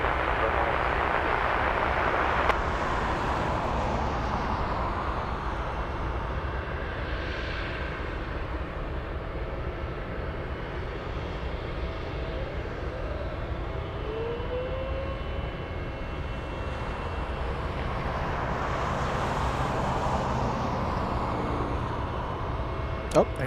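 Boeing 747 jets at Anchorage airport produce a broad, steady roar of engines that swells and fades over a long stretch, distant but continuous, with faint voices underneath.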